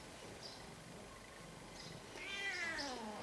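A pet cat meows about two times, the later call louder and drawn out with a rising-falling pitch, heard indoors over a quiet background hiss with no talking.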